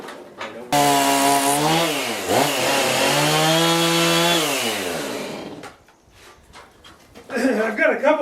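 A chainsaw cuts timber while a house is built from trees. The engine roars loud and close, rising and falling in pitch through the cut, then drops to a low idle before revving again.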